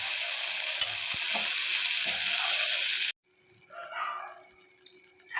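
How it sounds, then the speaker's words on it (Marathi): Khoa (milk solids) roasting in a hot kadhai gives a close, steady sizzling hiss for about three seconds. It then stops abruptly, leaving a quiet room with faint scattered sounds. "आपण या ठिकाणी खवा छान भाजून घेतला आहे"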